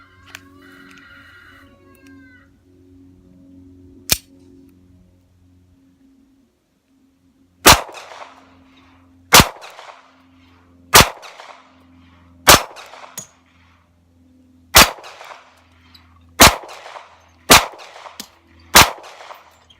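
Pistol shots loaded from a GI magazine with Perfecta ammo, fired at steel plates: nine sharp loud cracks at uneven intervals each ringing briefly, after a quiet stretch with a lone earlier snap and soft handling noise.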